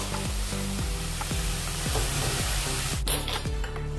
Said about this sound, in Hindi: अभी वही कढ़ाई में हम पत्ता गोभी डाल देंगे